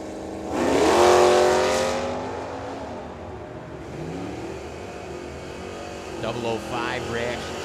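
Drag race between a 1970 Challenger and a 1984 Mustang, engines roaring loud and close at launch then fading downtrack, with a track announcer talking over the run.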